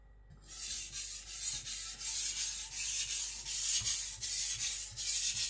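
An IKEA Chinese cleaver is drawn over a whetstone in steady, even strokes, a close, gritty rasping scrape repeating roughly every half second with no voices.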